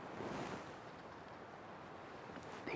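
Strong wind gusts blow across open tall grass in an Indiana field, a steady rushing buffet of noise against the microphone, faint and continuous with a slight surge at the end.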